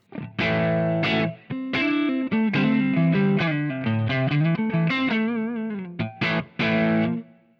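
Gritty electric guitar through a Revival Drive Compact overdrive pedal playing a choppy riff of chords and single notes, loud and close, with brief pauses between phrases.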